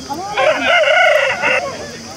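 A black-eyed Salem-breed rooster from Tamil Nadu, about a year and a half old, crows once up close at Nallapadu market, a loud rising and falling call lasting about a second.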